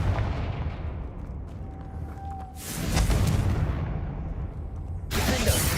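A Confringo explosion spell in the video game Hogwarts Legacy: loud, booming blasts with a crackling burst of noise, one after another within a few seconds over steady game rumble, with no talk.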